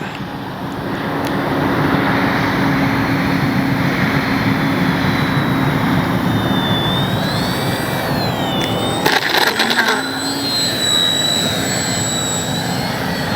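A small FMS Ranger 1220 radio-controlled plane flies overhead, its electric motor a steady whine that rises and falls in pitch as it passes, under a broad constant wind-like roar, with no voices.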